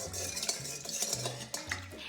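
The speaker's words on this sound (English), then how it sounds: "now I'm just gonna use my tablespoon and give it a little stir" A tablespoon stirs a homemade witch's brew in a bowl, producing soft scraping swirls with light metallic clinks and taps against the side, close up and quiet, with no talking.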